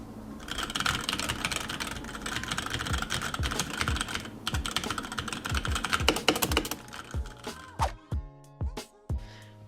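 Rapid keyboard typing with clacky keystrokes, dense bursts at first, then slower, separate key presses and a few louder thocks near the end.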